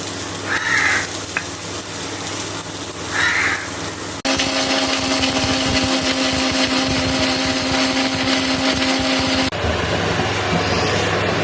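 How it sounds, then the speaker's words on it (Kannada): A kitchen mixie grinder whirring through masala with curry leaves and tamarind for chicken sukka, a loud steady motor drone that starts abruptly, runs continuously for several seconds and then cuts off, with quieter kitchen noise before and after. "ಇದನ್ನೀಗ ಮಿಕ್ಸಿ ಮಾಡಬೇಕು"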